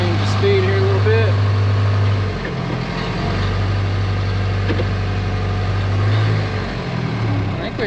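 A John Deere 550K bulldozer engine runs steadily nearby with a deep droning hum whose pitch shifts as the speed is changed, under someone talking.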